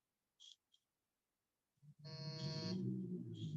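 A quiz buzzer is pressed at a school inter-house quiz: two short beeps sound first, then a loud, sustained electronic buzz runs on steadily to the end.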